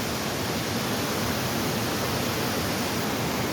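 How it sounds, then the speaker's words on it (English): A waterfall in the woods in Chester, Connecticut rushes with a loud, steady, broadband roar, close and unbroken, with no talk. "It's just the woods with a waterfall."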